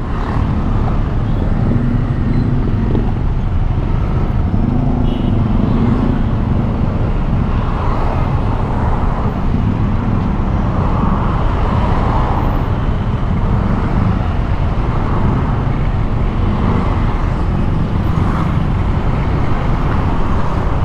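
Dense stop-and-go road traffic on N. Bacalso Street in Cebu, heard from a moving ride, a steady low rumble of cars, buses and trucks surrounding the rider throughout with no clear talk.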